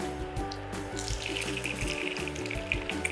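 Continuous crackling and bubbling sizzle of filled rolls frying in oil, steady and close, with a faint low hum underneath.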